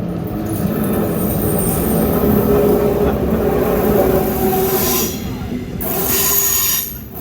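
A Deutsche Bahn ICE-L train arriving at a station, its wheels squealing loudly and steadily over a heavy rolling rumble, close by and continuous, with the squeal easing briefly toward the end.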